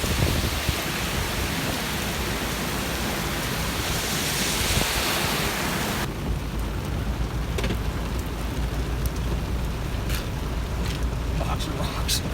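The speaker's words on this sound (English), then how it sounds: "the rain is not letting up" Steady rain falls outdoors during a wet trash-picking outing, a dense hiss that stays loud and unbroken throughout, turning somewhat duller and lower halfway through.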